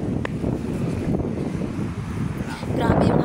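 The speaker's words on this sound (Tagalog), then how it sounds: "Grabe yung hangin." Strong wind in Morocco buffets and roars across the microphone, a loud, constant rushing gust that swells near the end, with a voice faintly underneath.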